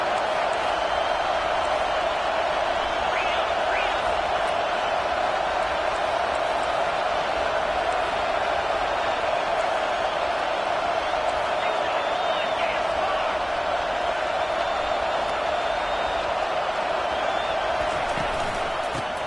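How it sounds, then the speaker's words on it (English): Stadium crowd in the College Football 25 video game, a steady, fairly faint roar of cheering and noise on a third-down defensive stand, sustained throughout with a constant tone beneath. "Decibels rising as the crowd gets behind this defense on third down."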